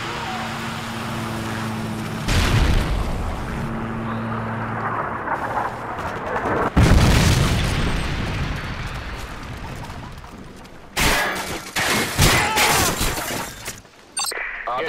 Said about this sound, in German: Verbündeter Luftschlag auf dem Weg.